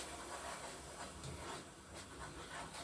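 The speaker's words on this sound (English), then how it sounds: "So it's starting to bubble up now." Caramel for a banoffee pie bubbling and hissing steadily in a pan, a continuous close sizzle with soft popping, heard alone without talk.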